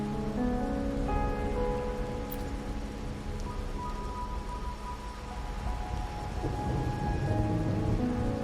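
Steady rain and rumbling thunder in the Wuthering Waves game, a constant wash of rainfall with low thunder rolls throughout, no voices.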